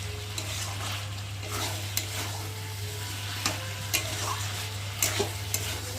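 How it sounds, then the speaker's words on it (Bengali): Chicken and spices sizzle and fry steadily in a pan, with occasional stirring scrapes and clinks on top of a constant low hum; no one talks. "দেখো ভালোভাবে যত কষাবে চিকেন তত টেস্টি হবে"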